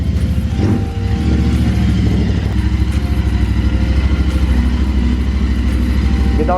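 A motorcycle idles loudly and steadily up close at about 1500 RPM, its open exhaust with baffles removed giving a deep, rapid, slightly fluctuating burble.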